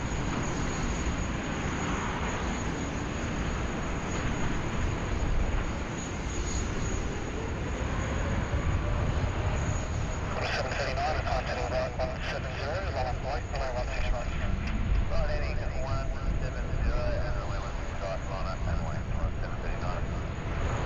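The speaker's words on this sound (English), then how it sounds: "So we've got our China Eastern 7562 ready to go there on runway 16 right." China Eastern airliner departing from runway 16 right at Sydney Airport, a steady broadband jet roar holding level throughout, with people talking over it.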